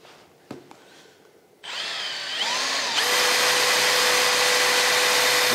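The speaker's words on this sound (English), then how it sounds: "I'm going to try to rotate now the distributor with my drill." After a few quiet knocks, a power drill whines up and holds a loud, steady pitch as it turns the distributor of an MGB with electronic ignition.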